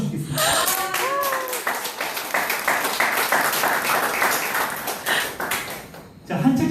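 Audience applause at a Korean book-writing workshop talk: a dense, steady wash of clapping lasting several seconds, then tapering off into a voice.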